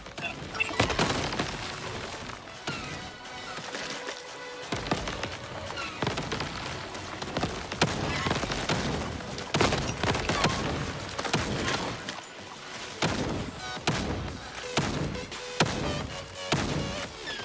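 Video game gunfire rattles in rapid, repeated bursts of sharp shots over about seventeen seconds, mixed with intermittent voices.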